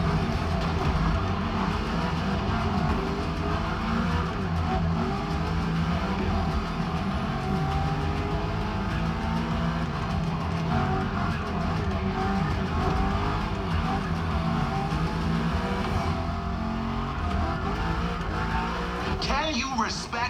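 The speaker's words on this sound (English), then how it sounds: "Now you can let the supercharged V8 do the talking." Supercharged V8 race car in The Crew Motorfest roars steadily at close range with sustained engine drone, tire squeal and skidding through winding curves, constant and loud throughout.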